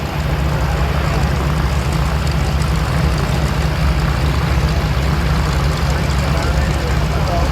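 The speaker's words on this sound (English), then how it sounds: "From the right, ladies and gentlemen, this is Randy Ball on the high-speed pass." MiG-17 jet fighter on a high-speed pass at the Oshkosh airshow at twilight, a loud, steady, broadband jet roar holding its intensity throughout without letup.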